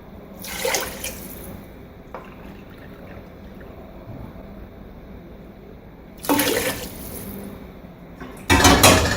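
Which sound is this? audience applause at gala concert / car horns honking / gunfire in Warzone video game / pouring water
pouring water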